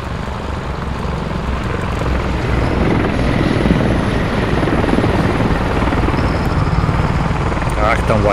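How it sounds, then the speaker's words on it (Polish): A helicopter in the combat video game Squad comes in to land, its loud continuous rotor and engine roar filling the whole stretch with a steady, near drone. "Tak, tam ładnie te helikoptery lądują."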